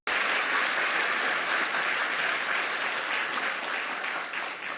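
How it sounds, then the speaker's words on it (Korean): A church congregation at a New Year's service applauds together, a dense, steady burst of clapping that fills the room and tapers slightly toward the end. "우리 하나님께 박수로 감사하겠습니다."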